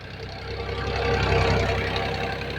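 A 2025 model Farmtrac 60 tractor engine labours while pulling a deep plough, its low, knocking drone close and steady, rising slightly in strength midway.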